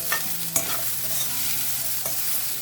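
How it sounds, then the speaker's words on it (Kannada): Oil sizzles steadily as cauliflower fries, broken by a few sharp clinks and scrapes of stirring. "ಪಕ್ಕಕ್ಕೆ ನಾವು ಕಾಲಿಫ್ಲವರನ್ನು ಫ್ರೈ ಮಾಡಿಕೊಡ್ತಾ ಇದ್ದೀವಿ"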